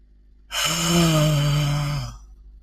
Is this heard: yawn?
yes